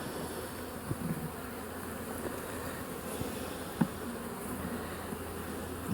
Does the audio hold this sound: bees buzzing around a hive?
yes